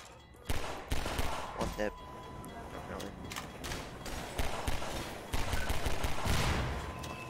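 Gunfire in the game Half-Life 2, with a scattered volley of sharp shots and bangs at moderate distance amid game ambience, while a player speaks briefly.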